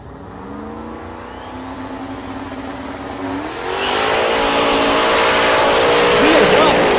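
A drag racing car launches hard down the strip at Tulsa Raceway Park, its engine roaring and climbing steeply in pitch as it accelerates away, loud and close, with an announcer talking over it.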